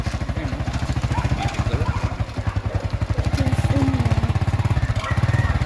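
A motorcycle engine idling close by with a steady, loud, rapid thumping pulse that keeps going throughout, at a morning start on a mountain outing.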